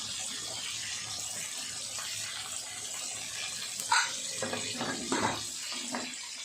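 A pressure cooker whistles on the stove as it boils taro greens, giving off a steady, fairly faint hiss of escaping steam with a few stronger bursts toward the end.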